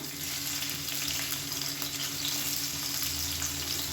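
A handful of big onion, sliced lengthwise, frying in hot oil in a pan gives a steady, close, even sizzle with no pauses and no voices.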